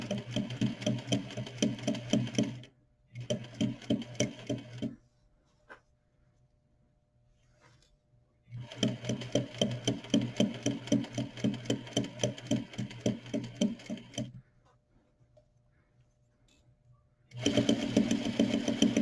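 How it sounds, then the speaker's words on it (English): Sewing machine stitching a bias bound seam in contrasting thread, running in three close, steady rapid bursts of needle clatter separated by short quiet pauses. "I'm stitching in a different color thread"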